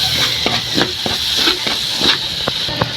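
Garlic sautéing in butter in a pan, a loud, close, steady sizzle with periodic scraping and stirring knocks roughly every half second.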